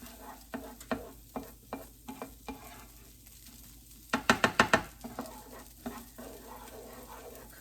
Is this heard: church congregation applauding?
no